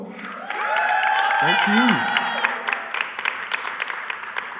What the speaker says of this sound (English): Can we give a round of applause for Hope?